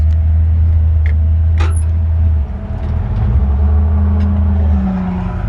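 A 1954 Chevrolet 3100 pickup truck's engine idles loud and close with a deep steady rumble, briefly dipping in pitch midway before settling back into its rough low drone.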